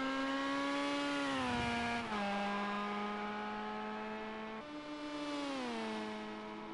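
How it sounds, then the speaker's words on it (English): A high-pitched RX Lites rallycross car engine in Project CARS 2 drones steadily on a snowy Mount Panorama track, its pitch sliding down and back up with gear changes, loud and continuous. "Absolutely incredible sound there of the engine as they come down into the last couple of corners"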